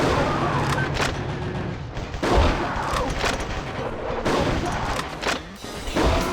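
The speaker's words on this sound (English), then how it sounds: "Okay, that's a shotgun." Shotgun blasts in the video game Metal Wolf Chaos XD, several loud booming shots at irregular intervals amid continuous in-game combat noise, close and dense.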